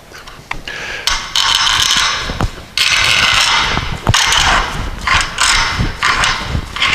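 Reaming a bronze idle arm bush held in a vise: loud, close, rasping metal scrapes in repeated strokes with short pauses and sharp clicks between them.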